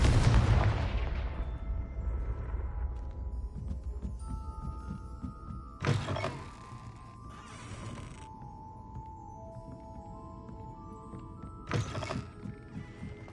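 A Confringo blasting spell cast in Hogwarts Legacy, a loud fiery burst that fades out slowly, with two more sharp blasts a few seconds apart over low rumbling game ambience and drawn-out tonal notes.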